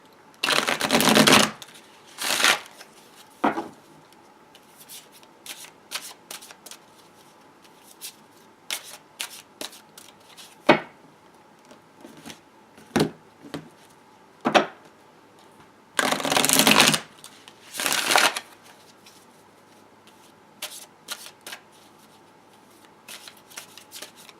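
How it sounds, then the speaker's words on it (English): A Chrysalis Tarot deck is shuffled and dealt. Loud riffling bursts at the start and again in the middle alternate with crisp single snaps and taps as cards are laid down, with no talking. "use my other deck, my Chrysalis Tarot deck, and deal right on top of it"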